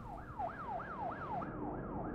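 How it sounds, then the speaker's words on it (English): A police siren in the American Truck Simulator game, a steady rising-and-falling wail repeating about every third of a second, moderately loud over a low engine rumble. "Since when do they have sirens?"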